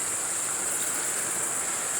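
Crickets chirp in a meadow during a bike ride, a steady high-pitched trill that fills the air continuously at moderate loudness, with a faint hiss underneath and no voices.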